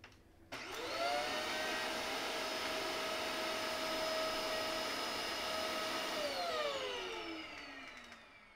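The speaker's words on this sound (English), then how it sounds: "I should probably get a new vacuum." A household vacuum cleaner switches on with a sharp thump, whines at a steady high pitch for several seconds, then winds down as the motor slows, loud and close with no talk.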